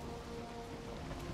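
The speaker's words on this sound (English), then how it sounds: "Is it still raining or is it clearing out?" Rain in the video game Valheim: a steady, dense patter of rainfall with a faint low rumble underneath, constant and even throughout.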